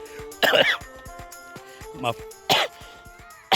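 Several harsh coughs and throat-clearing bursts from a man with a cough, close and loud, spaced irregularly with quieter background noise between them.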